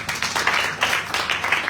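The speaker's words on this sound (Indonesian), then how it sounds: "Beri tepuk tangan untuk Tuhan." A church congregation claps steadily through a short stretch of applause, the dense clapping rising and falling in waves, with no talking over it.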